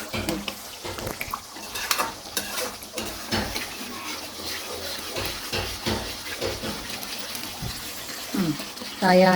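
Coconut milk cooking down into oil in a pan, a soft crackling sizzle with stirring and utensil clinks, heard under someone talking throughout.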